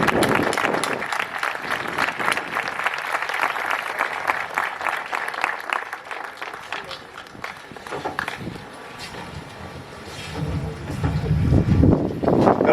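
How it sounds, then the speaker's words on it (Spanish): Sustained audience applause at an award ceremony, the Pozu Fortuna prize event, dense clapping that thins out midway and swells again toward the end. "Un aplauso."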